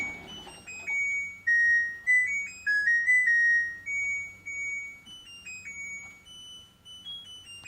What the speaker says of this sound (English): my LG machine likes to sing me a song when it's done.